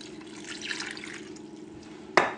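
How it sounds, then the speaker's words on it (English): Water poured into a pot holding shrimp shells, a soft continuous splashing and trickle with a sharper splash near the end. "We'll just add water."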